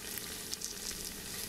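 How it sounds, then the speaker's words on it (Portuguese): Toscana sausage roasting in a pressure cooker, giving a steady close sizzle and frying crackle throughout with small pops and no voices. "quem não gosta de uma linguiça assada e ainda na panela de pressão"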